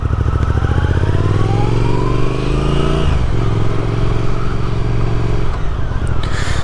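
Triumph motorcycle being ridden, a loud close engine drone whose pitch climbs steadily, drops sharply near the middle as a gear changes, then holds steady again.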